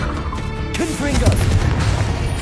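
Confringo fire-blast spell in the video game Hogwarts Legacy, a loud booming burst with crashing impact, close and dense, amid continuing battle effects and a voice calling out.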